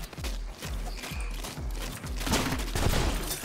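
Small bombs going off in the video game Rounds, a rapid string of sharp, punchy explosions with thumping low impacts at an irregular pace, close and loud, growing denser toward the end.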